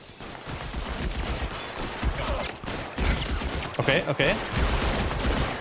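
Gunfire in the 1940s Los Angeles detective game L.A. Noire, several sharp shots and short bursts spread through the moment, while someone talks over them.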